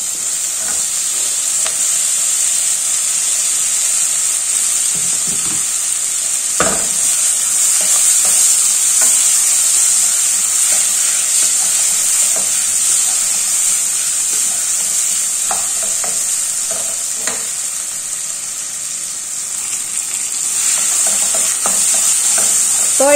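Spices and tomatoes frying in a pan for a vegetarian curry, a steady loud sizzle and hiss close up with occasional stirring scrapes and clinks, no talking.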